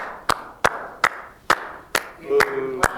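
Seven sharp single hand claps spaced roughly half a second apart, loud and close, with a low voice murmuring briefly underneath toward the end.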